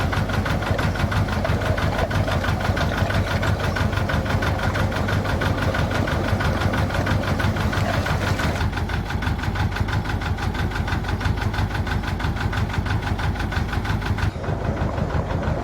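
Steady drone of a pump engine drawing water out during floods at Stourport, a constant mid-pitched mechanical hum with a rhythmic pulse, close and unbroken for the whole stretch.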